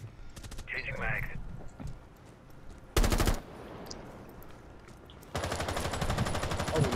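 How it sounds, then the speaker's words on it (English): Gunfire in a video game: rapid automatic bursts crackle up close, one short burst, a pause, then a longer sustained stream, with a person talking between them. "This gun sounds so beautiful, bro."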